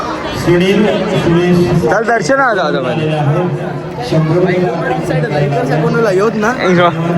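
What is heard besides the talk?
crowd chatter at Maharaj darshan temple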